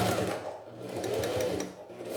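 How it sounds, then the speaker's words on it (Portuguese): A sewing machine stitches with a half presser foot, sewing a zippered beach pouch with a clear vinyl window; a steady, close mechanical whir with a fast rhythmic stitching pulse throughout, no talking. "Aqui eu tô costurando com meio pé"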